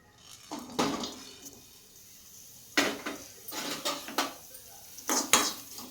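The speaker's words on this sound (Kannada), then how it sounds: "ಸ್ಲೋ ಫ್ಲೇಮಲ್ಲಿ ಡ್ರೈ ರೋಸ್ಟ್ ಮಾಡಬೇಕು." Pepper and cloves are dry roasted in a pan over a slow flame, heard as scattered clinks and scraping stirs of a utensil against the pan in short bursts, with no voices.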